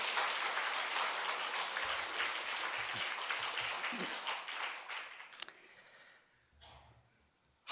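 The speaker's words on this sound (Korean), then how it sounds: "크게 우리 하나님께 영광의 박수 아멘 합시다." A church congregation bursts into dense, enthusiastic clapping that holds for about five seconds, then tails off into a few stray claps and quiet rustling.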